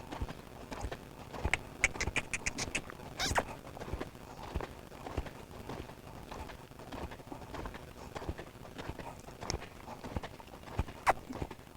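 A horse being schooled for energy and balance trots steadily, its hooves landing in a regular, crisp clip-clop rhythm at close range, with faint bird calls in the background.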